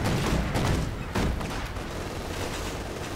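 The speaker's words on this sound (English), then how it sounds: "MG42 firing away there." Loud, dense bursts of automatic gunfire from an MG42 machine gun in a Company of Heroes 2 battle, sustained rattling with a heavier volley near the start and continuous firing throughout, no talk.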